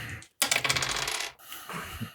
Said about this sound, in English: That's a bad roll, Jeff.